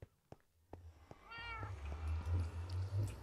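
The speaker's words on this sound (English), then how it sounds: "Kitty cats, come with me." Cats meow in the video game Minecraft, a clear drawn-out meow followed by softer calls over low game ambience and a few sharp clicks.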